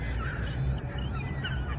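Crows cawing outdoors in Seattle amid a crowd of seagulls, a dense overlapping chorus of harsh caws and bird calls, loud and close throughout, with no speech.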